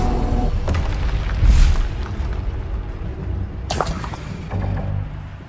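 Bombarda spell explosions in the Hogwarts Legacy video game, two deep booming blasts with rumbling low-end tails over a continuous background of combat effects.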